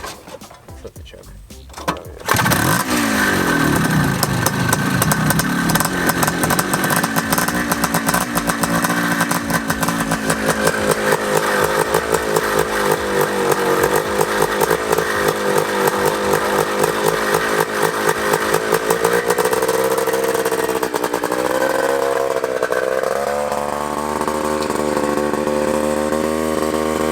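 An FL250 Odyssey two-stroke go kart engine fitted with a DG expansion pipe starts and runs, a loud, raspy buzzing drone that rises and falls in pitch as it is revved and warmed up, with someone speaking over it.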